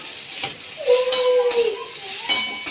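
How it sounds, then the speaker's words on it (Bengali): Potato and pumpkin chunks fry in a pan, a steady close sizzle under repeated scraping strokes of a spatula, with a brief whistling tone sliding through the middle; no talk. "আলু কুমড়ো দিয়ে দিয়েছি, আর একটু ভাজা ভাজা হয়েও এসেছে"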